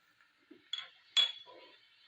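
A steel spoon clinks against a pan while salt, turmeric and chilli are spooned in for aloo methi sabzi, several sharp, bright metallic taps in quick succession, close and clear against an otherwise quiet kitchen.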